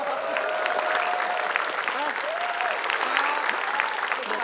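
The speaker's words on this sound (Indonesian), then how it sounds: "Tepuk tangan dong." A studio audience at an Indonesian TV quiz show claps steadily throughout, with voices and faint tonal calls rising over the applause.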